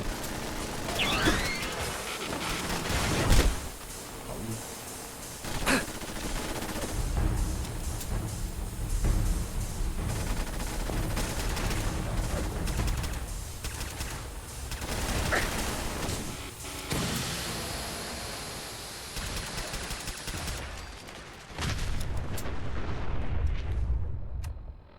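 Heavy gunfire and booming impacts in the post-apocalyptic game Fallout 4 with the Sim Settlements 2 mod, a loud sustained battle of shots and crashes with a voice talking over it.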